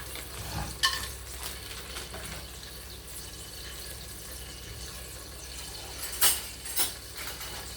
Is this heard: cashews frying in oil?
yes